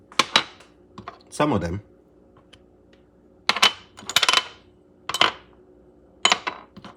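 Shrimp get tossed with seasoning in a bowl, giving several short clattering, clinking bursts spaced apart, close and fairly loud, with a brief spoken phrase among them.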